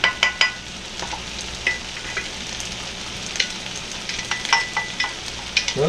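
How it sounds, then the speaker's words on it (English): Uncooked rice stirred into a sizzling sausage skillet: continuous frying hiss with a few sharp scraping strokes of the spoon against the pan, close up, and no talking. "Give it a little quick stir"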